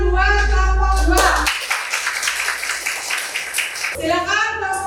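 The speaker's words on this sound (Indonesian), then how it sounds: "Tepuk tangan buat kelompok 2." A classroom audience claps for a student group after its presentation in an Islamic religious education lesson, a dense burst of many hands lasting a few seconds, framed by a teacher's voice speaking before and after.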